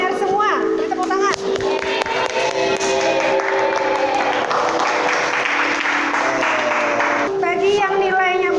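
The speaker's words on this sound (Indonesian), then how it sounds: "Beri tepuk tangan." Schoolchildren in a chemistry classroom clap their hands together in a bright, continuous burst, with young voices calling and chattering over the clapping.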